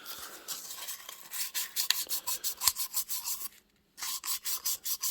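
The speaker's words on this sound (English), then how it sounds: "I'm going to take this little bit of sandpaper, and I'm going to go in here" A small piece of sandpaper scrubs cured JB Weld inside an engine intake port in quick, evenly spaced rasping strokes up close, pausing briefly before the rhythmic rubbing resumes.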